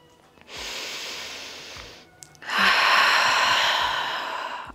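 Two slow, deep breaths during a guided exercise, each a long airy inhale or exhale lasting over a second, heard close and clear with a short pause between them.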